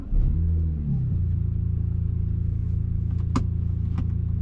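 A modified BMW E90 328i on a test drive gives a steady, low engine drone from inside the cabin, with a brief swell at the start and a couple of faint clicks later on.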